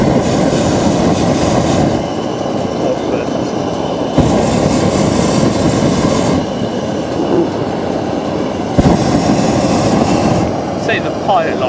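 The burner of the hot air balloon G-BYNN in flight fires in long, loud blasts of steady broadband roar, each lasting about two seconds, with quieter gaps of background hum between them.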